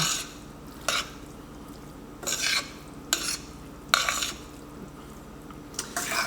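Pork lo mein with bok choy is stirred and tossed in a pan, giving intermittent scraping, rustling bursts over a soft steady sizzle, close by.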